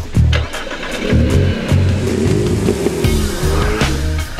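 A car drives a lap of the Bicester circuit, its engine loud and close, revving up and down through the gears with a rising, falling drone.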